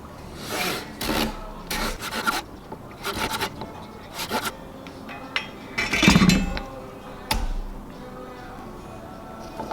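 A wooden glidebait lure blank for largemouth bass, with a wedge nose, is sawn in half, giving a run of close, rough rasping strokes in uneven bursts with short pauses between them.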